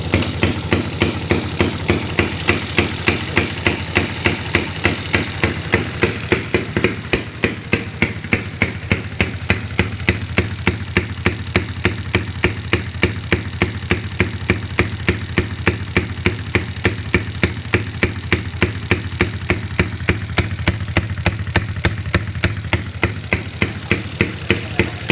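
A motorcycle engine idles steadily and loudly at close range, its rapid, even thumping pulse continuing without a break and with no voices.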